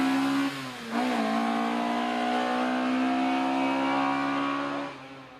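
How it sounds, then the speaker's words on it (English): A Hillman Imp with a rear-mounted 1-litre Coventry Climax engine at a hill climb, its engine note holding a steady high rev with a brief dip and recovery as it shifts, loud and close before fading slightly. "handling nicely, making all the right noises with their little 1 litre Coventry Climax designed engine in the back"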